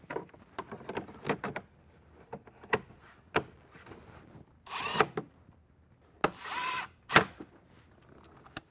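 A power drill drives factory screws into a Jeep Wrangler TJ dash trim panel, giving short bursts of whirring drill noise among light clicks and taps, with a few louder, longer spins near the end and no speech.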